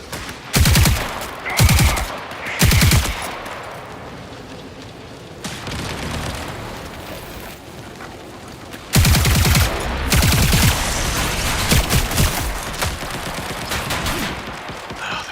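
Bursts of rapid automatic fire from the Marathon shooter game come in loud clusters, with quieter gaps between them and a long dense volley in the second half, close and punchy.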